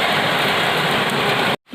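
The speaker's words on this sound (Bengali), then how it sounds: "একটু বৃষ্টিটা কমেছে, বৃষ্টি পড়া বন্ধ হয়নি কিন্তু বৃষ্টিটা একটু কমেছে" Heavy monsoon-style rain pours down, a dense, loud, even hiss that holds steady before stopping abruptly just before the end.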